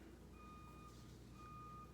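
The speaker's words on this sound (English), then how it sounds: "There's like a truck doing something out there. I'm sorry if you can hear the beeping." A truck reverses somewhere outside, its steady pulsing backup beeps coming through faintly over a low constant rumble of engine and room noise.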